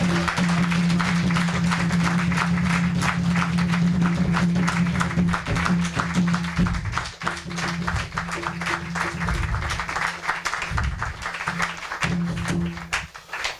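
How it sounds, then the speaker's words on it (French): A church congregation claps loudly and continuously at a New Year's Eve service, with a sustained musical hum underneath and brief dips in the middle. "Applaudissez plus fort, plus fort, plus fort."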